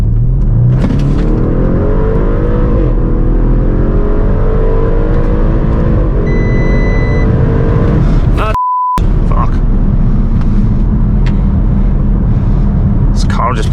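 An Audi RS6 with its silencer deleted, heard from inside the cabin on an open road as the engine revs climb steadily under hard acceleration, very loud, with a gear shift and a brief electronic beep near the middle.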